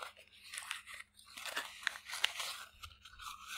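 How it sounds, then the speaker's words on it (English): Crisp crinkling and crunching of a paper dollar bill being crumpled in the hands, close up and quiet, with irregular sharp crackles. "crumple up the dollar like it's an old piece of paper"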